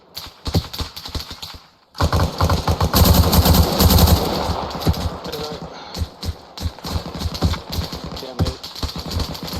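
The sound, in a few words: gunfire in the ARMA Reforger video game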